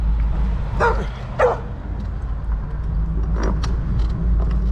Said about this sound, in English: control your fucking dog.